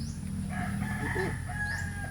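A rooster crows with a drawn-out call over steady background noise, moderately loud and fairly close.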